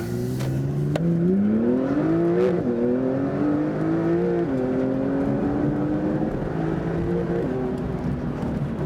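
A Porsche 991.2 Carrera T engine fitted with GTS turbos from an APR kit revs hard and climbs through several gears in manual mode, each shift dropping the pitch briefly before it rises again, loud and close.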